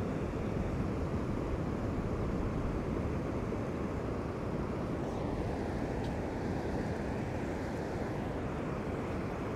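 Small ocean waves wash in at a stream outlet on a shoreline, a continuous broadband surf hiss mixed with wind buffeting the microphone, steady and fairly loud throughout.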